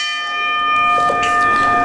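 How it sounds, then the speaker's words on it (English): A ringing bell starts a professional wrestling match. Its bright, sustained metallic tones ring out loudly and steadily with a shimmering resonance, and no voices are heard over it. "Bell rings, this match getting underway right here as the two are squaring up."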